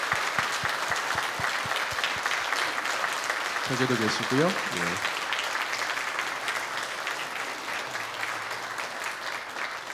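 A church congregation applauds to welcome newcomers during a Sunday worship service, a dense, sustained clapping filling the hall while someone speaks over it.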